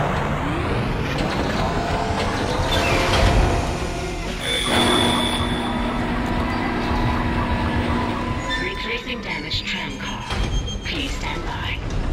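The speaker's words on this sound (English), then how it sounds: "The tram is blocking the whole system." Tram moving through the Dead Space game: loud rumbling rail noise with screeching wheel squeals and metallic clanks rising and falling over twelve seconds, with a voice talking over it.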